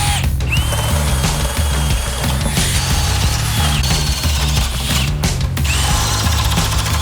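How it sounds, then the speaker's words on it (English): A DEWALT POWERSTACK cordless drill whirs steadily and loudly throughout, its bit boring 7/8-inch holes through wood studs without pause, with a low mechanical rumble underneath. "you're going to be drilling 7/8" holes in these studs behind me"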